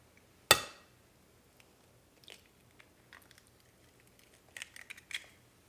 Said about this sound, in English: I'm going to go ahead and crack an egg